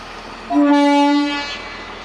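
A single loud, sustained horn blast from a rail track maintenance machine departing a railway station, lasting under a second, rising sharply and fading into a low mechanical rumble.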